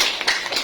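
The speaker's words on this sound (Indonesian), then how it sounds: "Tepuk tangan dulu buat kita semua." Students in a classroom clapping together, a short burst of brisk overlapping claps, fairly close and loud.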